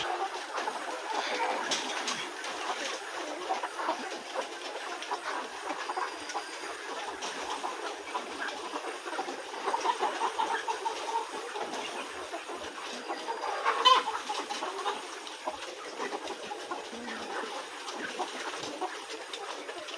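Layer chickens on a farm cluck softly in the background of a quiet poultry shed, a faint steady murmur of hens with a brief louder cluck near the end.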